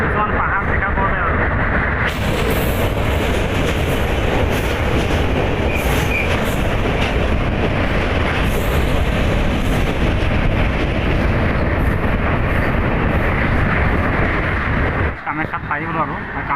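A train crosses an overbridge near Kamakhya junction in Guwahati, Assam, with a loud, steady rumble and clatter of wheels on rails that holds for about thirteen seconds before easing off near the end.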